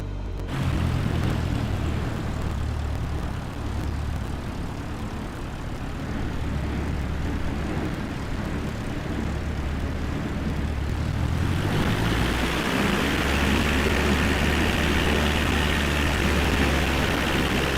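Continuous drone of a Cessna 172 engine and propeller while taxiing in Microsoft Flight Simulator 2020, a steady loud rumble that swells in brightness partway through as power increases, with no voices.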